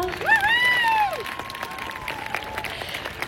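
A crowd applauds steadily at a western-themed amusement park show, a dense patter of clapping, while a voice sweeps through a rising and falling exclamation at the start.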